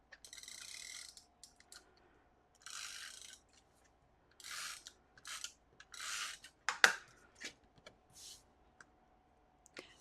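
A tape runner laying adhesive strips during card making, heard as a series of short dry clicking, rasping bursts with pauses between, close and fairly quiet.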